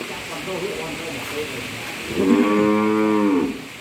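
A cow lowing on a farm during rain, one long, loud, close moo with clear harmonic tones near the end, after a stretch of soft rain hiss and faint voices talking.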